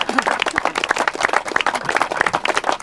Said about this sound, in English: Well done, Timmy, and yeah, a round of applause.